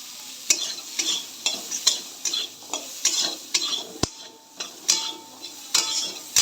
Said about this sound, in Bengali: সবজিগুলো ভেজে তারপর চালটাও দিয়ে দেব, চাল আর ডালটা